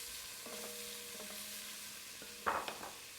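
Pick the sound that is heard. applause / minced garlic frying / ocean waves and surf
minced garlic frying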